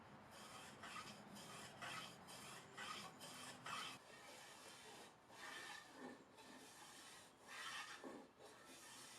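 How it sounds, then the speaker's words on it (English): Hand sanding the edges of a wooden dovetail shelf: faint, rhythmic rasping strokes of sandpaper on wood, each lasting about half a second, with short gaps and steady back-and-forth pacing, no talking. "give it one final sanding just to clean up all the edges"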